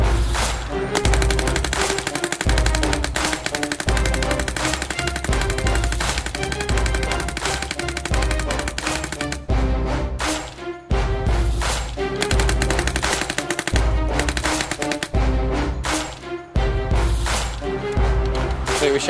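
Etek3 LT paintball marker firing in rapid bursts in auto-response mode, loud close chattering strings of shots that stop briefly and resume, with a voice over part of the sound.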